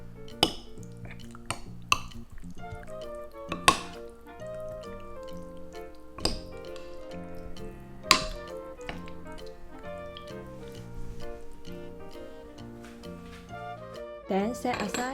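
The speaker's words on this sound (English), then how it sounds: "Then add a bit of sesame oil and mix again." Light clinks and taps of utensils against a bowl at close range, mixing sauce with sesame oil, in scattered strokes over quiet background tones.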